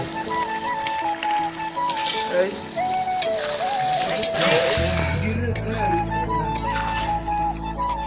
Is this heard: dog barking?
no